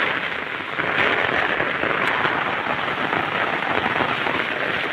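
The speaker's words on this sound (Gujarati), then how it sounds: "વરસાદ જ એવો પડે છે" Heavy monsoon rain pours down on a village near Savarkundla, Gujarat, a loud, unbroken hiss of drops drumming on surfaces close by, with no voices.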